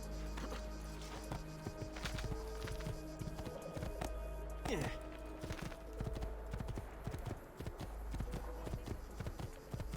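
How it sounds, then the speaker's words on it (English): Steady clip-clop of horse hooves at a trot, close and continuous, over a low ambient rumble, with a brief neigh partway through, in the video game Assassin's Creed 2. "I am confused and riding a horse."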